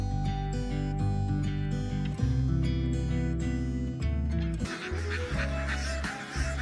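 A flock of farm ducks gathers at feeding time, quacking and honking steadily throughout, a dense crowd of calls with a busier, noisier stretch toward the end.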